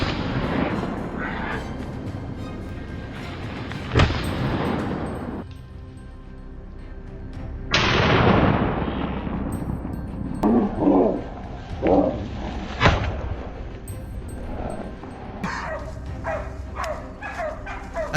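Several sharp gunshots from a wild boar hunt ring out at intervals, each trailing into a long echo, with hunting dogs barking between and after the shots.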